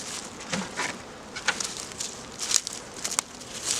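Honey bees buzz around an opened hive during a spring feeder change, close individual buzzes flitting past in short bursts over quiet background, with light handling taps.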